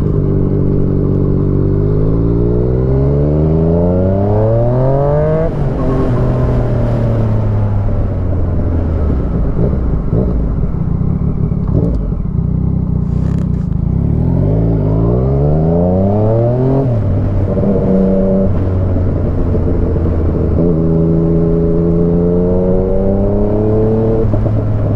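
A Yamaha MT-09 motorcycle engine revs loud and close, its pitch climbing and falling through repeated throttle sweeps and gear changes over a strong, continuous roar, with no voices.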